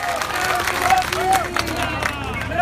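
A crowd claps and cheers at a political gathering in India, a dense, sustained wash of applause mixed with murmuring voices throughout.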